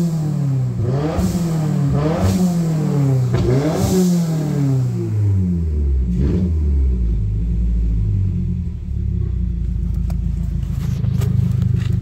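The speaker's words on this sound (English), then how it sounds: "Let's do a rev up." A 2022 Subaru WRX with full bolt-ons revs up loudly and close by, with several sharp throttle blips that rise and fall in pitch before it settles into a deep, rumbling idle.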